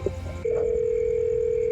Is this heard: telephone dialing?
yes